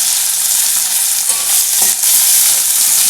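Tomatoes and ginger paste frying in a pan for an egg curry, a loud dense hiss of sizzling close up with a brief utensil scrape in the middle.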